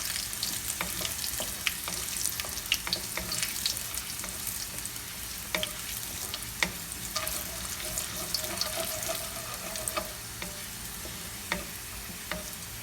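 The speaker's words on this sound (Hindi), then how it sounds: "फिर इसमें हम डालेंगे ज़ीरा और लहसुन को हल्का सा ब्राउन करेंगे" Cumin seeds and garlic fry in hot oil for a Dhaba-style black masoor dal, giving a steady close sizzle with scattered crackles and pops and a few light clinks, with no talking.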